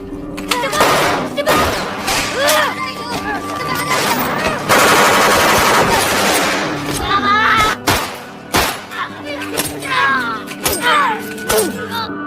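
A close-range gunfight between police special forces and militants, with dense, loud bursts of gunfire, sharp single shots and shattering impacts over roughly twelve seconds, mixed with shouting voices.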